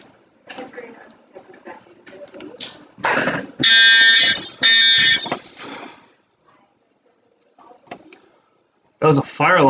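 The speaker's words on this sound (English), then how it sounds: "That was a fire alarm that just scared the shit out of me." A fire alarm blares in loud, harsh bursts, two long blasts in the middle and another at the end, with a person's speech before and between them in an indoor room.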